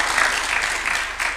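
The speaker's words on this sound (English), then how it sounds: "A clap for him, please." Audience applause at a Kenya-Japan development cooperation event at State House, Nairobi, welcoming a speaker: a steady, dense wash of many hands clapping throughout, fairly close, with no talking.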